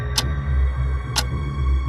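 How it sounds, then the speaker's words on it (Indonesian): An old wall clock in a quiet room ticks twice, about a second apart, each tick sharp and distinct over a low steady hum. "suara detak jam itu berbeda, penuh ketegangan dan misteri"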